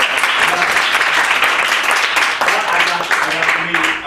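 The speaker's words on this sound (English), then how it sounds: "So I want a round of applause for that." Steady applause from an audience at a speaking event, a dense wash of clapping that carries on throughout at an even level.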